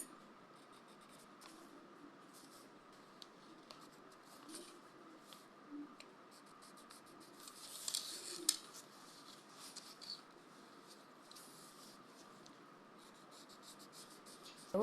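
Chalk or a marker scratching sewing allowance lines onto fabric for a sleeve, soft close intermittent strokes with a brief louder scrape midway.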